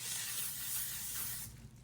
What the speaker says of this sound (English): I use my L'Oreal Infallible Setting Spray after my powder before my eyes.